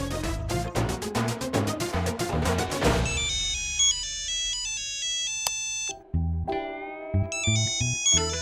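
A mobile phone plays a melodic electronic ringtone, quick bright repeated notes and then slower chiming tones, fairly quiet, with no voices over it.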